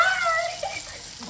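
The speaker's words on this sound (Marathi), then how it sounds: "दाब पाणी येते बघ" Water is pressed and squeezed out during home cooking of a seafood dish, a brief continuous splashing trickle with a faint voice in the background.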